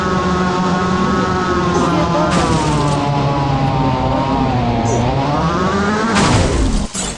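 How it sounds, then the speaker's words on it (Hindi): A video game vehicle is driven at full speed through the mountains, its engine droning loud and continuous, pitch dipping and climbing with gear changes, and a sharp burst near the end. "और मैं पूरी फुल स्पीड में भगाता गाड़ी"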